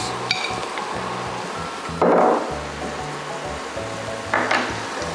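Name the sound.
chopped mushrooms added to a pan with butter and garlic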